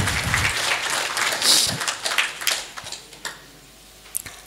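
Audience at a three-day meditation gathering clapping in a burst that is loud at first, then thins out into scattered claps and fades over a few seconds.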